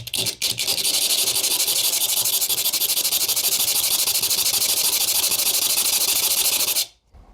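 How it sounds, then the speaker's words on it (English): A piston ring being filed to set the ring gap for Wiseco high-compression pistons in a B20 VTEC engine, a steady harsh rasping that runs continuously and then stops abruptly near the end. "So I'll give it another good filing like that last one"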